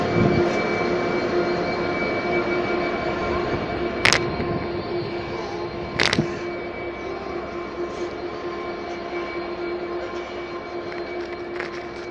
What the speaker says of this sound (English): arriving in now is a Virgin East Coast service to Leeds